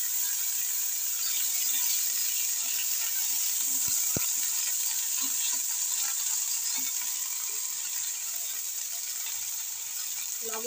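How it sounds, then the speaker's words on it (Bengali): Taro stems and leaves are frying in oil with garlic and chili, giving a continuous soft sizzle with a sharp click near the middle. "আমি এবার ঘাটখোল আর পাতাটা দিয়ে দিচ্ছি ভাজতে।"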